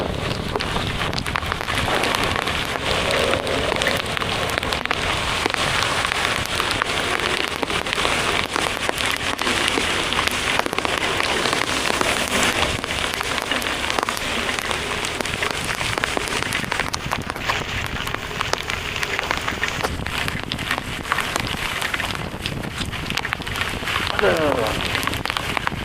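Heavy rain during a motorcycle ride on village roads, a constant loud hiss of rain and wind rushing past the microphone. Faint voices come and go under the noise.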